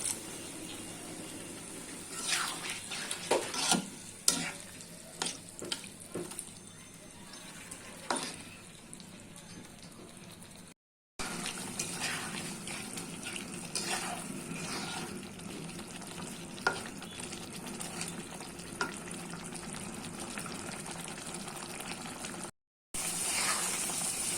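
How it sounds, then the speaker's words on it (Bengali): Soft sizzling of chicken sautéing with spices and a little water in a pan, with bursts of spatula scraping and clinks early on, then a steadier low sizzle with short gaps. "সামান্য পরিমাণ পানি দিয়ে মশলাটাকে সাথে মাংসটাকে ভালোভাবে কষিয়ে নেব"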